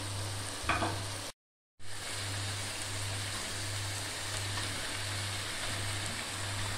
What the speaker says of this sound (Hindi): बस हमें इसको 30 सेकंड से 1 मिनट तक चलाना है। और यहाँ पे मैं शिमला ऐड कर रही हूँ।